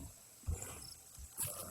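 A bear in the survival game Raft lets out low, rumbling roars, a few short bursts against a quiet in-game ambience.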